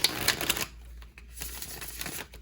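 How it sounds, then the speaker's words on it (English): Tarot cards shuffled by hand, a quick burst of crisp riffling clicks at the start that fades into a softer, quieter rustle of cards being handled. "One more shuffling."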